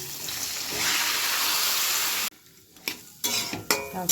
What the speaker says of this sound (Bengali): এবার একটু নাড়াচাড়া মশলাটার সঙ্গে মিশিয়ে নেব